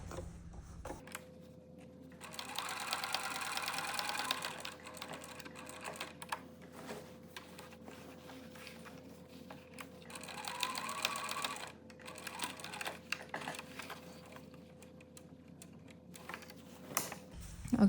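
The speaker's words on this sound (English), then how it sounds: "When I come to the edge, I just do 1 stitch to be off of the label" A sewing machine stitches a label onto a quilt, giving two bursts of fast mechanical stitching over a faint steady motor hum, with quiet handling noise and pauses between them.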